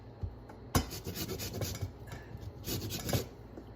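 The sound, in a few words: grating lemon zest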